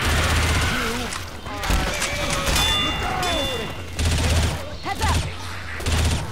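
Video game gunfire in Left 4 Dead rattles in loud repeated bursts and volleys with thuds and crashes, while a player's voice talks over the shooting.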